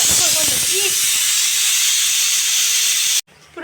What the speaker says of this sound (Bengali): তিনটা সিটি মারলো